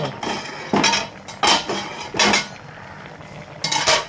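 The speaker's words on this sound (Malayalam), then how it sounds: "അപ്പോൾ നമ്മൾ മൂടി വെച്ചൊന്ന് തുറന്നു നോക്കുക" A metal lid clanks several times against a cooking pot as it is lifted and set down, sharp clinking hits roughly every half second, close and loud with no talk.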